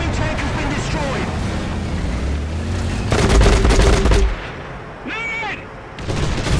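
A modified 120mm Rheinmetall tank gun fires in War Thunder, a heavy booming blast around the middle with a rumbling low-end tail, set among dense battle noise, radio-style chatter and clanking mechanical sounds before and after.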